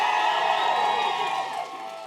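A crowd at a Democratic political rally in Clark County, Indiana, cheering and yelling together in a dense, sustained roar that fades slightly toward the end, with no distinct talking.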